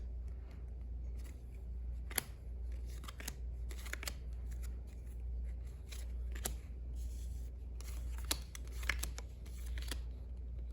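Trading card packs being ripped open at home, with scattered crisp tearing and crinkling bursts over a steady low hum, close and quiet, with no talking.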